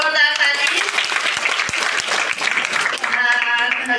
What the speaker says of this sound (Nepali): उहाँहरूको सम्मानमा नि जोरदार ताली